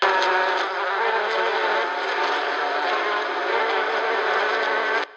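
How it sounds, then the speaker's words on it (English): Loud, dense buzzing of bees, close and continuous, as if a swarm hovers nearby, then it cuts off abruptly. "Oh no! Bees!"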